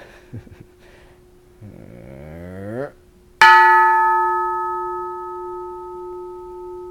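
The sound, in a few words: bell ringing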